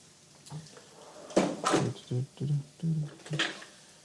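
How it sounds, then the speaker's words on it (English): A kitchen drawer holding utensils is pulled open and pushed shut, giving a series of several close wooden knocks and sliding rattles in quick succession over a quiet room. "let's check in the other drawers"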